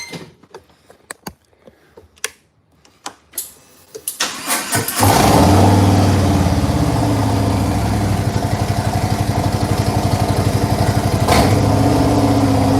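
Scattered clicks and rattles, then a motorcycle engine fires up and settles into a loud, steady, throbbing idle close by.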